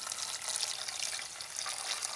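Water pouring into a pot to boil a can, a steady close rushing splash with no talk, fairly soft throughout.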